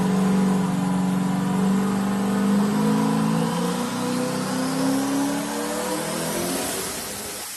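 Corvette with a turbocharged 5.3 aluminum engine, an 8891 precision turbo and a TH400 automatic, revving loud and close at an event, the pitch climbing and falling in long sweeps before easing off.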